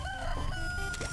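A rooster crows briefly in a video game, one short close call under a steady game background hum.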